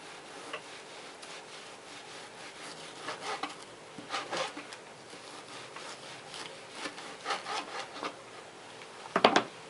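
A knife slices firm beef into thin strips for Korean bulgogi on a board, giving repeated soft rasping strokes and light taps at an uneven rhythm. Heard close and quiet, with no voices.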